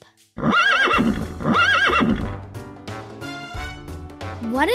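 A horse neighs in a Daniel Tiger children's video game: a loud, close whinny with wavering rising and falling calls, followed by cheerful game music and sound effects.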